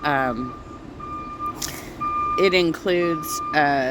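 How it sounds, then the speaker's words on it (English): A large truck reversing at construction repairs next door lets out a series of loud beeps, a steady pulsing tone under close, continuous talking from a nearby voice. "jackhammering and very loud trucks and all kinds of things"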